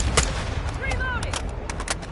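Gunfire in the video game Modern Warfare 2, scattered sharp shots over a busy battle background, with a voice talking partway through.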